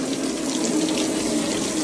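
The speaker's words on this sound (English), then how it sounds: "Tap's going again." Water running from a household tap, a loud, continuous close hiss of flow with no pauses.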